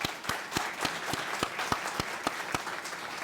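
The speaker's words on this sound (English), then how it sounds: "let's give them a round of applause" A steady round of applause for Job Corps students at a Rotary Club student awards event, with sharp, evenly spaced claps close by and crowd clapping behind them.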